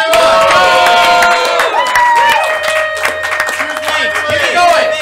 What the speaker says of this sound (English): Cheer them on, everyone! Cheer them on!